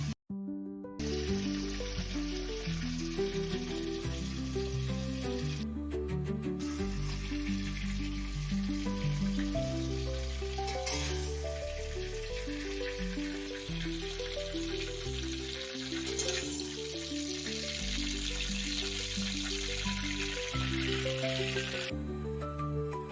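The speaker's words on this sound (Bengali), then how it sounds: "মাছগুলো ভালো করে ভাজা হয়ে গেছে, এবার কড়া থেকে তুলে নেব" Fish fry in hot oil in a kadai, giving a continuous bright sizzle and crackle that runs steadily for over twenty seconds beneath background music.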